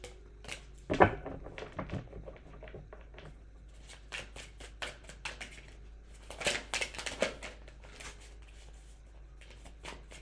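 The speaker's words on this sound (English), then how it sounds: "do a quick shuffle for Leo." A deck of tarot cards shuffled by hand in a quiet room, a series of soft riffling flutters and sharp slaps and taps in irregular bursts, close and fairly faint.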